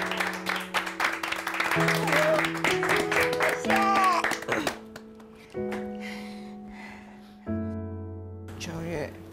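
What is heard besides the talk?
audience applause for the singers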